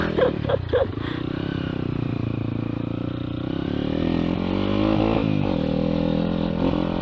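Honda XR200 trail motorcycle riding a rough trail, its engine droning steadily and revving up near the end, with clattering over uneven ground and a voice briefly heard over the engine.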